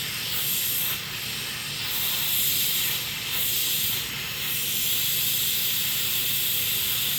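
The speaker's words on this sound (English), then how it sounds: "make sure you bleed that steam off" A pressure cooker vents steam through its valve while cooking red beans, a loud continuous close hiss that swells and eases slightly in waves for several seconds, with no talk over it.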